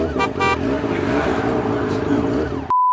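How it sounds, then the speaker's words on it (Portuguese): Street traffic with motorbikes and cars passing close by in a busy city street, a continuous engine roar with a couple of short horn toots near the start. "Eu acordei cedo para gravar e é só barulheira, que é moto, é carro"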